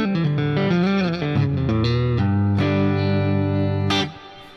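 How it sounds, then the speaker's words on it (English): Fender American Ultra Stratocaster electric guitar plays a quick, fluid run of chords and melodic notes through effects, rich and sustained, loud and close, ending in a ringing chord that cuts off after about four seconds. "I have a Fender American Ultra Strat."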